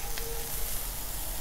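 Shrimp sizzle on a hot 36-inch Blackstone griddle in a broccoli and shrimp stir-fry, a steady close hiss and crackle with one brief sharper tick near the start and no voices.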